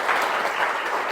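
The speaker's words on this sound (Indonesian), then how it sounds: "bisa berikan tepuk tangan?" Applause from a classroom of students, a dense and steady patter of many hands clapping together at close range, filling the whole short moment without any voices.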